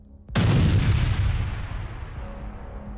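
An armoured personnel carrier sets off a mine: a single loud, close blast followed by a long, low rumbling decay.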